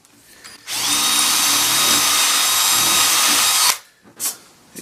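A power drill boring into a piece of wooden furniture during restoration, running as one steady, loud whine for about three seconds, then stopping abruptly, with a couple of brief handling knocks afterward.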